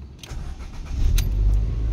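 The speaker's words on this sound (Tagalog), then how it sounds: "Alright, ignition start." A Ford EcoSport engine cranks and catches on the ignition, a low rumble building after a brief starter whine and settling into a steady, close idle.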